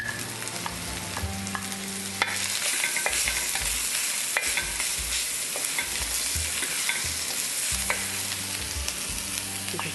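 Garlic sizzles in a hot pan, a dense, steady crackle with occasional clinks of a utensil stirring against the pan, close and loud throughout.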